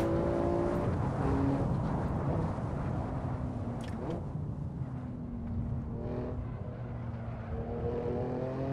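A BMW G87 M2 being driven hard on the Nordschleife, its engine note holding a steady loud drone with shifting pitch and road and wind roar, no talk over it.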